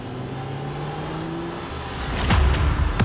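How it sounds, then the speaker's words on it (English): A 500 horsepower Ford GT500 on a rolling road dyno, a sustained engine drone that swells near the end into louder revving bursts, with no talk. "This is a rolling road. It's a sort of lie detector for engines and gives the true horsepower reading."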